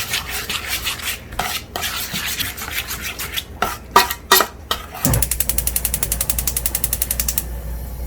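Korean syrup being stirred into a sweet sauce mixture for Korean fried chicken, heard as close scraping and rubbing strokes of a utensil against a bowl, irregular at first and then settling into fast, rhythmic repeated scrapes.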